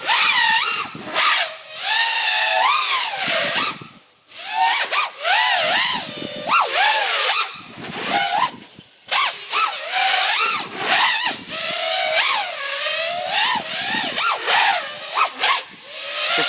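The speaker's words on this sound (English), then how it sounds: "You can tell the motors are really reaching a high RPM." Drone motors spin T-Motor 5147 propellers at high RPM, a loud near whine that climbs and dips in repeated swooping bursts, with short gaps between throttle punches.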